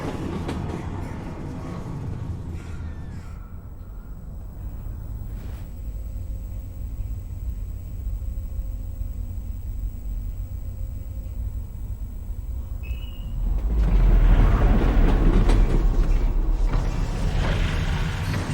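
A train rolls along rails in the video game Half-Life: Alyx, a continuous low rumble with creaks and mechanical rattling that swells louder and heavier near the end.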